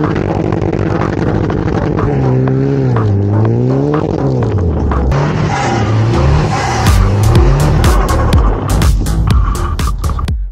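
Slammed, tuned Nissan Juke Nismo driving, its engine droning and revving with pitch rising and falling through gear changes, loud and close, with faint tire noise and sharp knocks toward the end.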